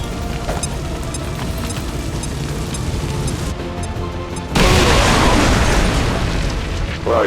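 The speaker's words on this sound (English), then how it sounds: "Grenade!" A grenade blasts in the video game XCOM 2, a loud sudden boom bursting in about two-thirds of the way through and rumbling on with crackling debris, following a stretch of game ambience.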